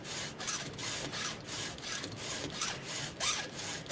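File rasping across the teeth of a Husqvarna chainsaw chain, a close series of quick rhythmic scraping strokes about twice per second, with no talking.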